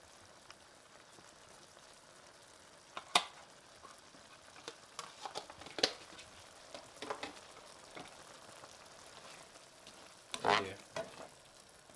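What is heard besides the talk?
tomatoes, sausage and kale stew frying and stirred in pot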